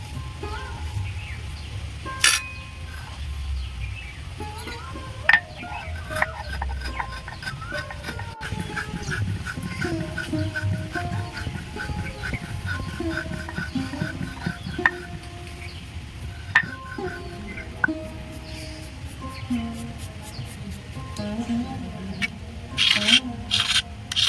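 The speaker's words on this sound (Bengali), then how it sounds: "শিলপাটাতে গুঁড়ো করে নেব" Citric acid is crushed into powder on a traditional stone grinding slab with a stone roller, making a long stretch of close, rhythmic rubbing and grinding strokes with occasional sharper knocks and no speech.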